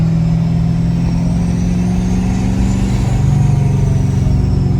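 A 2018 Ford F350 pickup with compound turbos runs in second gear at fairly high revs, giving a close, steady droning engine note that swells slightly louder near the end.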